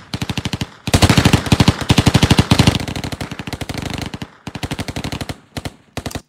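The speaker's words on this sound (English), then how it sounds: "It just feels like a real gunshot." Rapid bursts of designed gunshot sound effects crack in quick succession, some long volleys and some short ones, loud and punchy with brief gaps between them.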